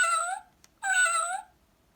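Two electronic cat meows play from a children's sound book, each clear and close with a tonal, slightly tinny quality, separated by a short gap and a tiny click.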